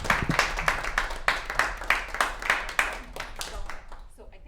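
A series of loud, sharp claps for Ric Burns, rhythmic and fairly close, thinning out and fading toward the end, with a voice briefly over them.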